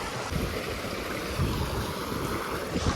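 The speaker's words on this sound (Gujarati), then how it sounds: "આ પાણી બધું વહેતું છે મિત્ર" Water rushes steadily down a rocky hillside stream in an outdoor hill setting, a continuous close wash of noise with no pauses, wind buffeting the microphone at moments.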